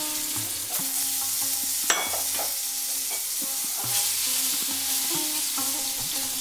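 Potatoes fry in mustard oil, giving a steady, dense sizzle throughout with occasional light clinks and stirring noises, close and continuous.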